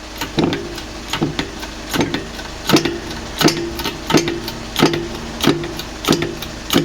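A VW/Skoda/Seat front wishbone bush is pressed out with a hand tool, heard as a steady run of sharp close ratchet clicks in regular rhythm, about two per second, loud and alone.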